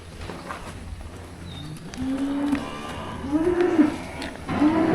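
Cattle moo several times in a livestock pen during fall pregnancy checking of the cows, with three drawn-out calls rising over steady barnyard background noise.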